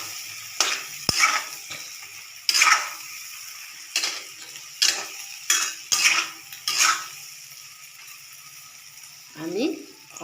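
A metal spatula scrapes and clinks against a wok while boroli fish fry with green chilies and spices, about eight sharp strokes spaced unevenly over a low sizzle, with a voice speaking briefly.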